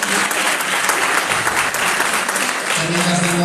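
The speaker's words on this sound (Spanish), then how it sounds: "Un aplauso para él, por favor." Audience applause at a ceremony honoring a member of an association, dense sustained clapping throughout, fairly loud and close, with faint voices underneath.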